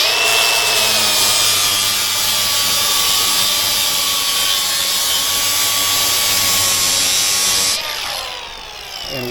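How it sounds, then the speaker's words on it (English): An angle grinder rounds the edges of a wooden deck railing and strips stain off it, a loud steady high-pitched whine held close up for most of the stretch before it winds down near the end. "Yeah, I'm grinding my stain back off there"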